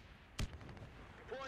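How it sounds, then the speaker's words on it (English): A grenade explodes in a first-person shooter bomb-defuse match, one short loud boom close by, followed by quieter game noise and a brief voice. "Fire in the hole! Grenade, flash out!"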